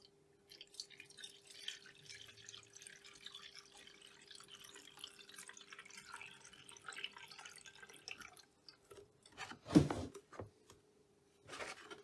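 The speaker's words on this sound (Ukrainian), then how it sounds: "тому ставимо тазик і заливаємо йому водички" Water pours and trickles into a leaking Braun WK 300 electric kettle, a soft continuous flow with drips, then a few louder splashy bursts near the end.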